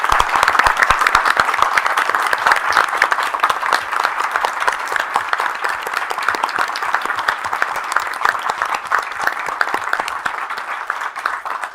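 Sustained, loud applause from an audience at a federal energy commission open meeting, honoring an employee's 39 years of service. The clapping stays even and dense for the whole stretch.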